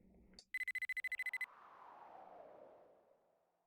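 Phone ringing in the Mizzurna Falls video game: a short swish, then a quick burst of rapid electronic ring pulses, followed by a fading whooshing tail, quiet overall with no talk.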